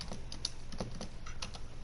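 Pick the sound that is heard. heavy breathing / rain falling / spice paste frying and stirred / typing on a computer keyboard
typing on a computer keyboard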